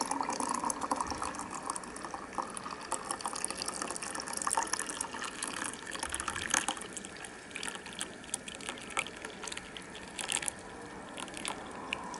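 Aluminium heat sinks being washed down with running water, a faint steady splash and trickle with uneven gushes, fairly quiet and close, with no talking.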